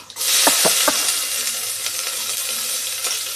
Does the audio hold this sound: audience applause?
no